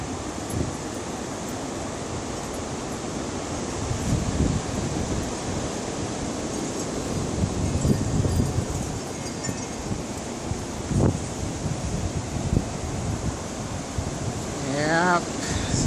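Wind gusting outdoors, a steady broadband roar that swells and eases in waves, with rustling under it and a brief whistling sweep near the end.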